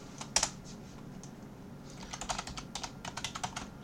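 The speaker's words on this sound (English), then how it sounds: "Type in my password" Quiet typing on a computer keyboard while entering a password, a soft irregular run of key taps that speeds up in the second half, close and alone without talk.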